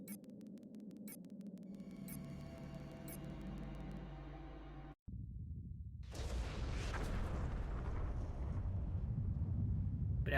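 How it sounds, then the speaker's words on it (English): A large explosion in the game Eternal Darkness bursts in midway, a loud broadband blast that swells and roars on as a sustained rumble after an abrupt cut from quieter game sounds. "I can just come back after the explosion"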